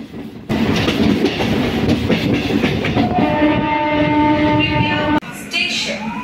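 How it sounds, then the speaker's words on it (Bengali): A train pulling into Santragachi Junction near Kolkata rumbles loudly with steady clattering of wheels on rails, then a long sustained horn tone joins in before the noise cuts and shifts near the end. "ট্রেন চলে এলো আমাদের সাঁতরাগাছি জাংশনে"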